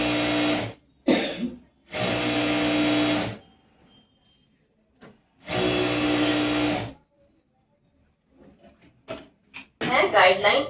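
A sewing machine stitching palazzo fabric runs in several short bursts of rapid, even whirring, stopping and starting between them, close by, with a voice speaking near the end.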